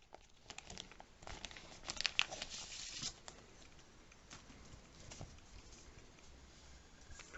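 Plastic wrapping crinkles and crackles as it is handled up close, busiest in the first few seconds before thinning to faint, scattered rustles.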